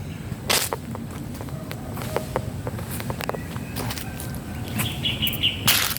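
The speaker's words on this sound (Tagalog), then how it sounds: "Mga ibon lang talaga ang mga huni ng mga ibon." Small birds chirp and call intermittently outdoors, with short bright tweets over steady ambient background noise and occasional rustling.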